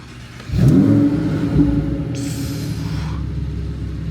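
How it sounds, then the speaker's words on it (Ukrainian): A Lamborghini sports car engine cranks and roars to life with a sharp rev, then settles into a deep, rumbling idle close by. "Так, заводити ось тут, піднімаємо таку червону штучку. Завести."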